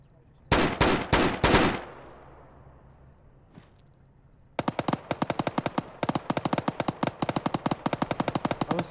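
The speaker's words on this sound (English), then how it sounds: "Who the fuck's shooting at us, Mark?" Machine gun fire in a ShackTac military video game: a short loud burst of four heavy shots, then after a pause a long rapid string of sharp automatic rounds at a steady rhythm.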